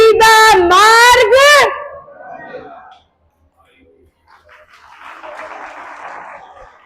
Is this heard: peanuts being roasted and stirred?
no